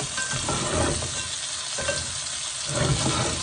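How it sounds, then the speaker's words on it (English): Oyster mushrooms fry in an unevenly heating pan, giving a dense continuous sizzle with occasional scraping turns of a utensil, close and fairly loud throughout. "Cook these a little bit more. This pan doesn't cook evenly, I just give this part a turn."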